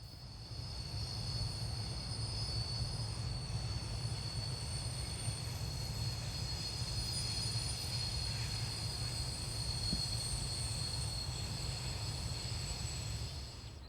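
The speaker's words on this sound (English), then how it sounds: "The train consists of empty coal hoppers, one of several trains like this that operate to and from the steelworks each day." A freight train of empty coal hoppers running to or from a steelworks rolls past in a steady, unbroken rumble with a high metallic wheel whine that lasts the whole stretch, heard without any voices.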